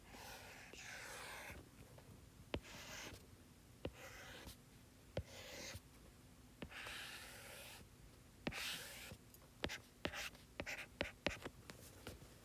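Pen writing on paper while working a chemistry problem, close and quiet scratchy strokes in short bursts, with sharp taps and clicks scattered between them and soft breathing, no talk.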